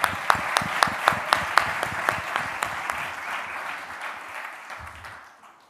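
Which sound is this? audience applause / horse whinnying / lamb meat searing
audience applause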